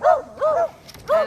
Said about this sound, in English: And of course, there goes my dog.